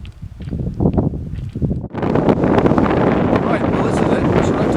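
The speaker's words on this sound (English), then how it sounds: "We shall have to shout out the sound of the" Strong gusting wind on a mountain pass near Great Gable, Lake District, buffets the microphone in a loud, constant roar, building after a brief dip and drowning out everything else.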